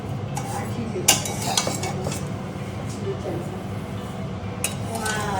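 Vermicelli being roasted for sheer khurma in a home kitchen, with a utensil scraping and clinking against the pan in scattered knocks and stirs, sharp clinks standing out over low background murmur.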